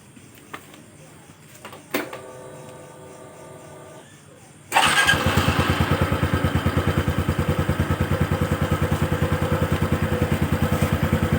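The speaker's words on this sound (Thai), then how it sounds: "เดี๋ยวมาฟังเสียงท่อเดิมก่อนนะครับ" A few faint clicks and a short electric whine, then a 2023 Honda Wave 125i with its stock exhaust fires up and settles into a steady, loud, thumping idle.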